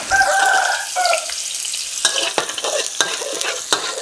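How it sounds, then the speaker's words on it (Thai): Garlic stir-fried in oil in a pan, with a steady sizzle under repeated scraping and stirring strokes, close and fairly quiet, no talking. "ผัดกระเทียมนะครับให้สุก"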